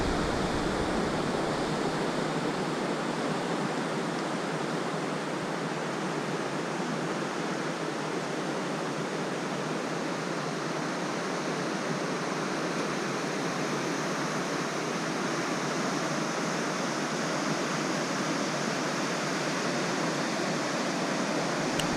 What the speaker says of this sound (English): listen to the ocean water, the waves crashing up against the rocks, up against the sand